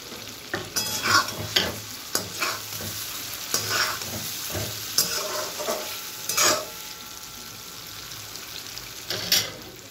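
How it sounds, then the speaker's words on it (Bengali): Fried eggs are tossed into sizzling garlic masala in a pan for egg curry. A spatula scrapes and stirs in bursts over a steady frying hiss, close and fairly loud, with no talking. "মশলাটা খুব ভালোভাবে কষানো হয়ে গেছে, এবার এতে ভেজে রাখা ডিমগুলো দিয়ে দেবো।"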